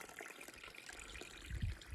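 A small stream spills into a tiny pool at a trailside water source in the Great Smoky Mountains on the Appalachian Trail, trickling softly and close by with a slightly fuller gurgle near the end.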